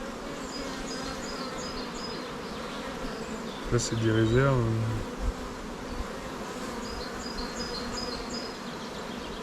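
Honeybees in a hive beat their wings, a dense steady buzz filling the background, with a person speaking briefly in French partway through.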